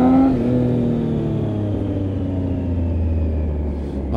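A 2018 Triumph Tiger 800 XRt three-cylinder engine with an Arrow exhaust revs up and pulls away with a deep, throaty exhaust note, steady and loud throughout, rising in pitch as it accelerates.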